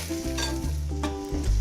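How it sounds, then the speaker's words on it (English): Tomato sauce for baked rigatoni with meatballs starts to boil in a pot, giving a steady sizzling bubble with a few stirring scrapes and a low tonal hum underneath; no voices. "the sauce is beginning to boil"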